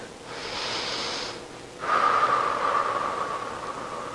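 Steady breaths during a held Warrior Two yoga pose: a long airy inhale-like hiss, a short pause, then a longer breathy exhale with a slight whistling edge, close and clear with no talking.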